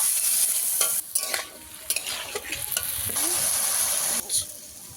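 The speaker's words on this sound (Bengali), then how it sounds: "আলুটাকে ভালো করে একটু ভেজে নেব।" Potatoes fry in hot oil for ghugni, a steady crackling sizzle broken by stirring scrapes and clatter of a utensil against the pan, close by and fairly loud throughout.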